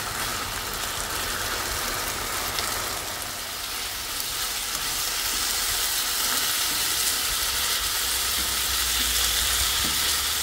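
Skin-on chicken thighs fry in a pan for garlic chicken rice, giving a steady, loud, close sizzle and hiss that holds unbroken for the whole stretch with no voices.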